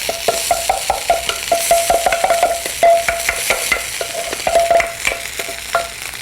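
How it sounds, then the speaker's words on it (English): A wooden spoon stirs fluffy cooked rice into sautéing vegetables in a pan, giving a steady run of soft scraping and knocking strokes over a continuous sizzle. "we'll use a wooden spoon here, and gently escort our rice grains out of the pot"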